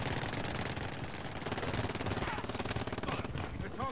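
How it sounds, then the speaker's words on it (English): Rapid automatic gunfire from a Mac 10 submachine gun in a Minecraft-style prop hunt game, dense continuous bursts of close shots. "You shot him with a Mac 10 from that far?"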